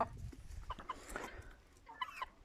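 Indian game chickens and roosters in a small flock, giving scattered short clucks and calls at varying distances over a soft outdoor background.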